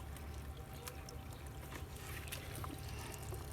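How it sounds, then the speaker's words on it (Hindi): Water trickles and pours steadily onto plants at close range, a low continuous splashing without talk. "ऐसे पानी डालते हैं हम।"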